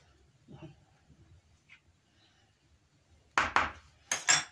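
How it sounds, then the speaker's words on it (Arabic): A spoon stirring a petit four cookie mixture in a bowl, two short clusters of close scraping and clinking strokes near the end after mostly quiet. No speech is heard. "هقلب بس كده اهو"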